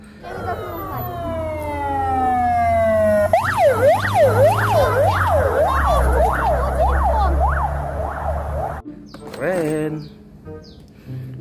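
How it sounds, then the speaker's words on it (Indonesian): A loud ambulance siren, first a falling wail, then rapid rising-and-falling yelps repeating steadily before cutting off, close by with engine rumble beneath. "Ada mobil ambulan"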